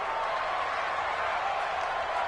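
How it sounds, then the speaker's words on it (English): A stadium crowd roars steadily in a PS4 football video game ahead of a big third down, a dense wash of cheering and applause with no pauses. "the crowd getting into it as we come up on a big 3rd down"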